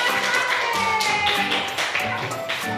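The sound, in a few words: class applause for a group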